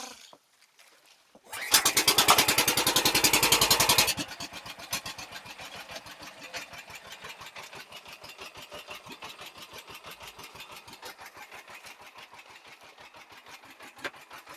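A small fishing boat engine cranks briefly, then catches and settles into a steady, rapid putt-putt idle that continues to the end.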